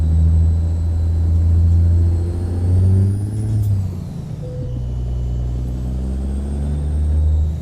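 A Peterbilt 352 truck in American Truck Simulator, a loud steady engine drone that rises and dips as it drives, with a brief hiss partway through and no talk.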